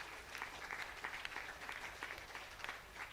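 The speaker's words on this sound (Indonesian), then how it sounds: "Tepuk tangan." A seated crowd at a pesantren vocational school ceremony gives a soft, distant round of applause, a faint even wash of clapping with no talk over it.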